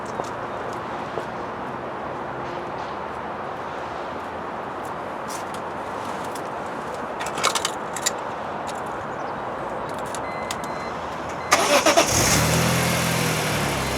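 A 2003 BMW M3 convertible engine idles steadily for a long stretch, then cranks and catches with a sudden louder, rougher roar near the end.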